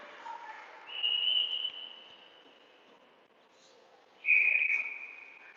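A referee's whistle at an ice hockey shootout in a women's championship game at an indoor rink, two fairly faint shrill blasts, the second shorter, over quiet arena hum.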